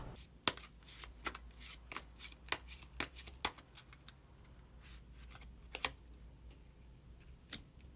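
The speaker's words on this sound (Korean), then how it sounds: "그러면 마지막으로 히든카드 한 장 더 뽑아보도록 하겠습니다." Tarot cards are shuffled in quick crisp riffling bursts, then a card is drawn. The sound is close and soft, with sharp flicks coming in clusters before it thins out.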